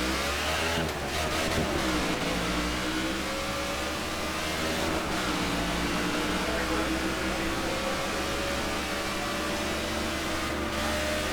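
A race car engine in NASCAR '15 drones loud and constant during the Duck Commander 500, its pitch sliding down and back up as the car lifts and accelerates through turns, with no talk over it.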